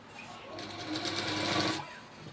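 A sewing machine runs steadily as it stitches fabric, a close, continuous whirring burst lasting about a second and a half, with someone talking softly around it.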